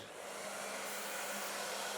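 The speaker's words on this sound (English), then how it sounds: "I'm going to use the Alpha Italia hairdryer and diffuser" A steady, continuous whoosh of an Alpha Italia hair dryer blowing air through a diffuser, running evenly without pause and with no voices.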